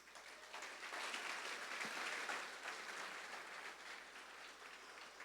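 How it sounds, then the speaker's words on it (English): Dense, steady applause from an awards ceremony audience in a large hall, a continuous wash of many hands clapping at once, fairly distant and even throughout. "Let's give all of ourselves a big round of applause."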